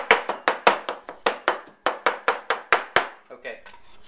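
Cleaver chopping pork on a cutting board, a steady run of about a dozen sharp, close thuds before the rhythm breaks into lighter scraping knocks.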